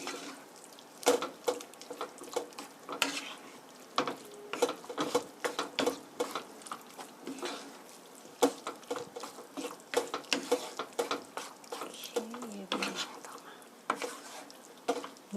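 Fusilli simmering in tomato sauce in a pan and being stirred, with soft bubbling and irregular clicks and scrapes of utensils against the pan, quiet and close.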